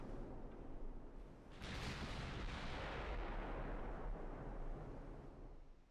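Naval gunfire from battleships in the Ultimate Admiral: Dreadnoughts game, a heavy booming salvo that rises suddenly and rolls on as a sustained, dense rumble before tapering off.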